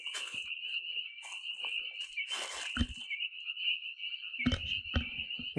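Small frogs call from a pond in a nature preserve, a continuous high trilling chorus held steady throughout, with a few nearby rustles and knocks cutting in toward the end.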